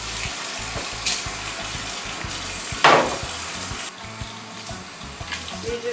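Tap water runs over garlic cloves in a home kitchen while they are peeled for homemade chili, a steady close splashing with one louder gush partway through.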